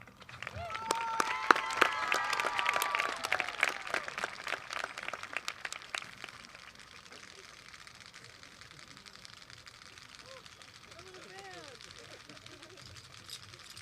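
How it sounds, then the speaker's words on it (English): A graduation band cheers and applauds for the salutatorian at Scappoose's 2023 ceremony, a dense burst of clapping and shouts that peaks early and then fades to a low murmur, with a voice talking over the tail. "I see I have the band over there cheering for me"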